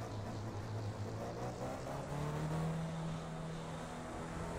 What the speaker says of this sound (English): so I'll just go by engine sound.